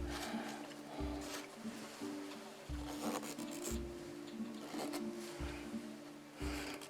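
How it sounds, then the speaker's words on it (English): Sharpie marker traces around a thin aluminum jar lid, giving repeated scratchy rubbing strokes over a low background hum, fairly close and moderately loud, with no speech. "just take a little Sharpie and mark around it"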